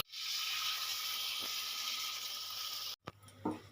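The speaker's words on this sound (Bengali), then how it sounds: "এবার আমি দিয়ে দেবো পরিমাণ মতন জল" Water poured into sizzling fish curry masala for a Bengali bata fish and gathi kochu jhol gives a loud, steady hiss and sizzle for about three seconds, then cuts off, followed by a few faint kitchen clinks.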